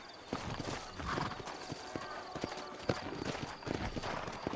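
Horse hooves clip-clop at a steady walking pace in the Red Dead Redemption video game, close and distinct, with a brief whinny and faint background voices.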